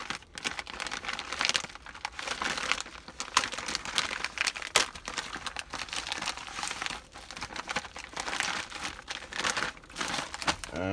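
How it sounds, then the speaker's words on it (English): A sealed plastic MRE bag is ripped open, its crinkling and tearing plastic crackling loudly and continuously in bursts close by. "So it's a sealed bag. So we're going to go ahead and rip it open here."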